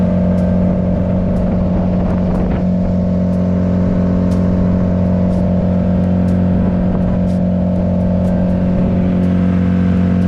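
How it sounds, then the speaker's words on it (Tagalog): Steady, loud engine drone of a motorized boat carrying passengers toward Isla Pugad, a constant hum running unbroken throughout with faint ticks and water noise on top. "Nakasakay kami sa bangka kaya medyo maingay."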